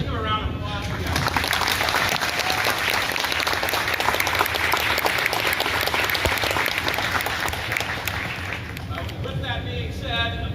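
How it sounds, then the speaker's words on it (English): Sustained audience applause fills a school Christmas concert hall, dense and steady from start to finish with scattered whoops and chatter underneath. "But please, give him a round of applause for that."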